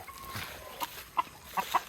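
A chicken clucks a few times at a moderate distance, short clipped calls scattered over a soft outdoor background.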